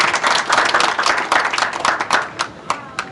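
An audience applauds itself after a presentation, a dense round of many hands clapping close and loud, thinning toward the end with a few isolated claps standing out.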